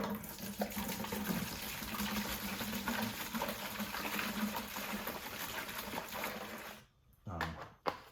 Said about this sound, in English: Zep, just a purple degreaser. I've had really good success with this. So just gonna put some in a bucket.